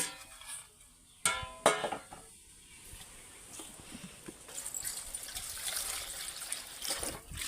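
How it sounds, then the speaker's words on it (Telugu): Water drains and trickles off soaked poha (flattened rice) being lifted from a bowl, a soft close dribble with a couple of brief clinks early on and a faint splashy patter toward the end. "అటుకుల్ని కొంచెం వాటర్లో ఇలా పోసుకొని వెంటనే తీసేసుకోవాలి"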